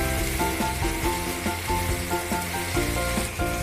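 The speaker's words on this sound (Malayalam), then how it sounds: "തക്കാളി നല്ല സോഫ്റ്റായി വരുന്നവരെ വഴറ്റണം." Tomato sautéing in a hot pan while cooking restaurant-style soya chunks Manchurian, with a steady loud sizzle running throughout and occasional stirring scrapes, no voices.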